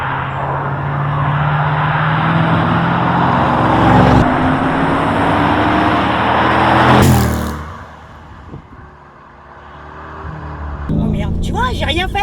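A supercharged 640 hp Range Rover Sport accelerates from inside the cabin, a rising engine drone that swells, drops away and builds again over road noise, with people talking over it.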